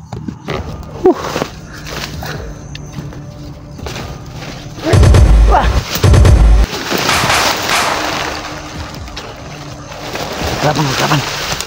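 Gunshots ring out in an outdoor confrontation in Laguna, two heavy booming bursts in quick succession amid a noisy scene where people talk and shout.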